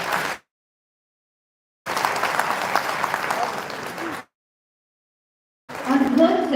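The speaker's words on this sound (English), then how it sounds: "A big round of applause," Audience applause at a citizens' gathering with India's finance minister, heard as separate bursts of clapping broken by abrupt silent gaps, with a voice entering near the end.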